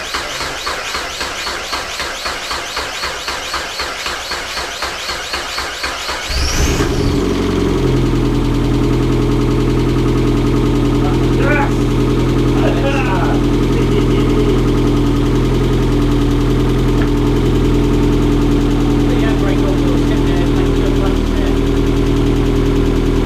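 Rebuilt race car engine cranking, then catching and running with a loud, steady, rough idle and rev that carries on for about seventeen seconds, with faint voices underneath.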